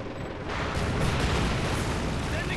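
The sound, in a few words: light artillery barrage in the video game Company of Heroes 2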